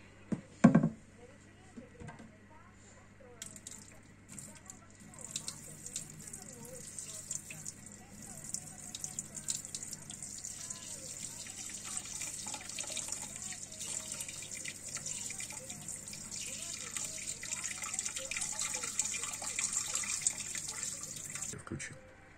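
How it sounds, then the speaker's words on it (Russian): Seawater poured into a new marine aquarium over freshly added sand, a continuous splashing and trickling that builds steadily in intensity, heard fairly close in a quiet room. "Мы засыпали песок, начинаем заливать воду."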